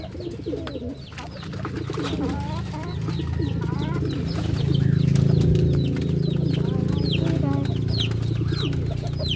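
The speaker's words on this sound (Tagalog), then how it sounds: "Ito na mga kalapatids." Pigeons kept in a loft coo and murmur steadily up close, with scattered chirps and a few soft flaps of wings in a continuous, busy chorus.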